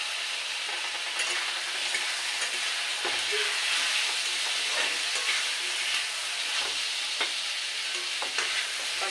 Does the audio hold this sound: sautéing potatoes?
yes